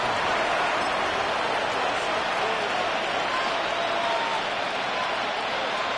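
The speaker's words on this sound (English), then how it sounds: "How about some applause for the defense there?" A football stadium crowd applauds and cheers in a steady, dense roar lasting throughout, loud and unbroken, with no clear voices standing out.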